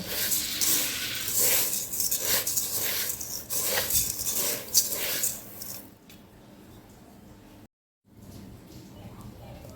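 A spoon stirs and scrapes through khichuri with moong dal in a cooking pot, giving repeated wet clinks and squishes for several seconds, then quieter handling and a brief silence.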